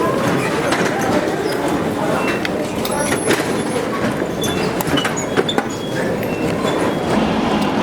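Interior of a typical European passenger train bound for Crewe from a London station, with a steady loud rumble of rolling stock and faint rail clatter throughout, overlaid by murmuring voices and occasional sharp clicks.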